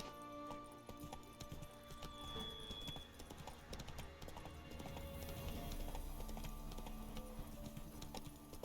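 Hooves of the horse in The Witcher video game clip-clop at a steady trot, quiet and continuous throughout, set against a faint game soundscape.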